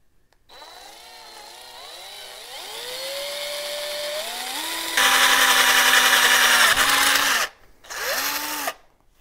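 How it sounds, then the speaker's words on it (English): A power drill boring holes in a motorized bicycle frame, its whine climbing in pitch as it spins up and then bites, running steadily before stopping, with one short final burst. "now that I have both of the holes drilled"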